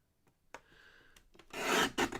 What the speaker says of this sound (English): I'm just going to trim this top piece.